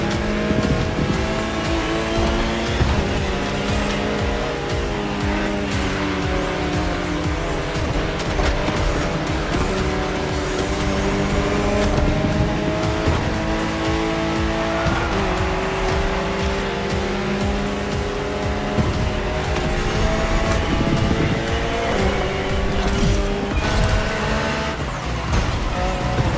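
Alpine hydrogen-powered concept race car driven in The Crew Motorfest video game, its engine droning steadily and loudly throughout with shifting pitch and occasional tire squeal, no talking.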